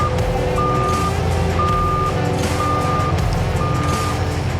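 A skid steer loader runs steadily outdoors while its reversing alarm beeps four times at an even pace, clear and fairly close over the low, constant engine rumble.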